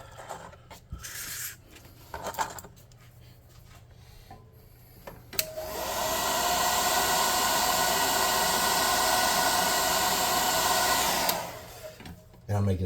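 A hair dryer blows on freshly painted miniature oil drums, a steady loud broadband whoosh lasting about six seconds after quieter handling noises, then cutting off.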